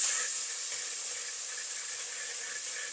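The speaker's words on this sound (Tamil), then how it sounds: "இஞ்சி பூண்டு சேர்க்குவேன் இது நல்லா மிக்ஸ் பண்ணி நல்லா வதக்குவேன்" Ginger garlic paste sautés in a pan with a steady, bright sizzling hiss that holds level and close for a few seconds.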